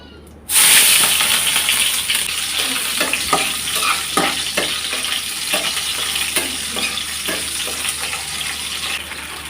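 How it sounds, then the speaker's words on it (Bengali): A vegetable curry with chopped onion, ground spices and salt fries in a pan with a steady close sizzle, while a spoon stirs and scrapes in a regular rhythm. "পরিমাপ মতো লবণ দিয়ে তারপর মশলাটা একটু কষিয়ে নিলাম"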